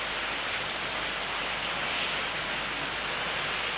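Steady, dense rainfall pours down without pause, a loud continuous hiss of heavy rain close by, with no voices.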